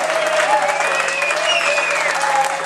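Applause from a small crowd at a Prague venue after a performance by a young boy drummer, a steady close clapping mixed with a few cheering voices and a faint sustained tone running underneath.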